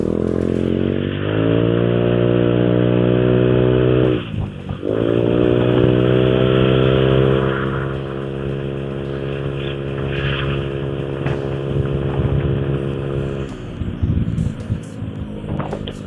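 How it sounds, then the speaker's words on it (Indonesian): Honda motorcycle with an old AHM exhaust fitted with an aftermarket CMS 0.5 mm exhaust filter, revved hard near the listener: a loud rising engine roar that holds at high revs, drops, revs again and then idles unevenly, with no talking. "sekarang kita coba geber nih teman-teman ya, sekenceng-kencengnya di sini"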